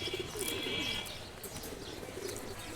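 Domestic pigeons of an old free-flying breed coo and flutter near the recorder, with soft chirps and wingbeats over a low background hum.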